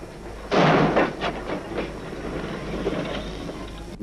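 A train runs along a railway in thick fog, opening with a loud heavy burst that fades into a sustained rumble with scattered clanks and thuds, fairly close, no talking.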